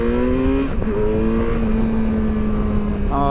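A car engine revs nearby, its rising and falling tone droning loudly alongside a 2016 Kawasaki Versys 1000 motorcycle in first gear, with a fresh rev climbing at the end.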